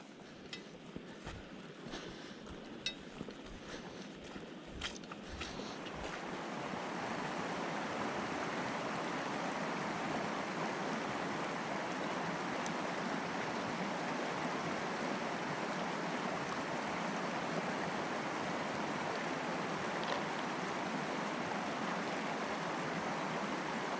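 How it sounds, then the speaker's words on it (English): Moving stream water rushing steadily and loudly, close by, filling the scene throughout after a few seconds of quieter, patchier flow with faint knocks at the start. "a wee bit of water here with some movement in it"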